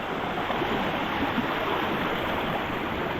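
A swollen river rushes steadily after rain, a dense, even wash of flowing water heard close and alone with no voices.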